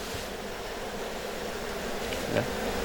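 Stingless bees buzz around an opened hive box with honeycomb in a garden, a faint steady hum close by, alone with no talk.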